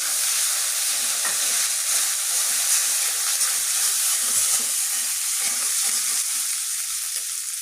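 Mustard paste with ginger and garlic paste being stirred in a hot frying pan for raw mango pickle, a steady hissing sizzle with soft scraping from stirring, continuous and close.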